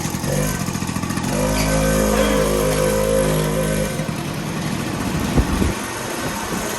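Suzuki RM500 motorcycle engine running nearby, a loud, throbbing two-stroke note with a steady pulse that rises, then settles into rougher, uneven running with a few sharp knocks near the end.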